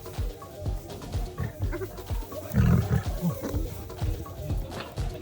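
Lions give deep rumbling roars and growls during a standoff with dozens of hyenas on a Tanzanian safari, close by, with a louder roar burst midway and repeated grunting calls over an outdoor background.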